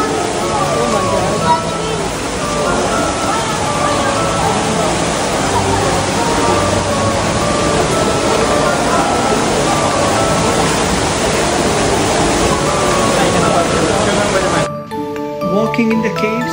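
Water rushes loudly and steadily through a cave water-slide area, a dense continuous roar lasting until it drops away near the end, with voices mixed into the wash.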